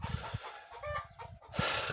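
Chickens cluck and murmur close by, a short burst of throaty clucks and squawks with no voices.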